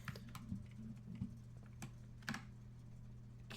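Quick clatter of computer keyboard keys and mouse clicks while playing a puzzle game, close and fairly quiet, in irregular bursts over a steady low hum.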